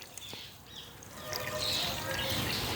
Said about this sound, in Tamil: அதே கப்பாலேயே 1 கப் தண்ணி விடுவோம்.